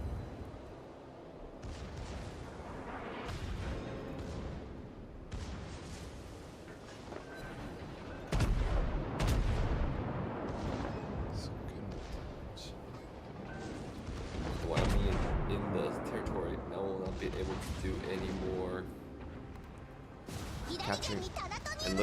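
A Kaiser battleship in World of Warships fires its secondary guns in the game, booming blasts recurring through a dense battle soundscape, while someone commentates over it.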